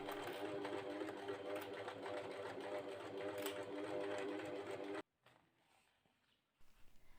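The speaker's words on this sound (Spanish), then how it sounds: "coloco el refuerzo en su posición y lo fijo con un hilván a máquina justo por el borde de la hombrera" A sewing machine runs a steady basting stitch along the edge of a shoulder piece, fixing a reinforcement for a faux-leather neck corset; the stitching whirs continuously for about five seconds, then stops abruptly, leaving quiet room noise.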